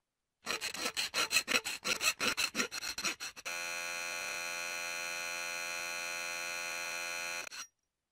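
A file rasps in a kids' tool-learning game, a quick run of rhythmic scraping strokes, followed by a long, steady buzzing tone that cuts off abruptly.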